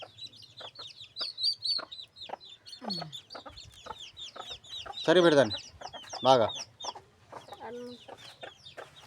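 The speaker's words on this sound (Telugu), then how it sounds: "ఇక ఫ్రెండ్స్, ఇంక కోళ్ళు తిరిగేస్తున్నాయి." Chickens cluck and chirp repeatedly at close range as they roam about freely, with a brief spoken remark heard among their calls.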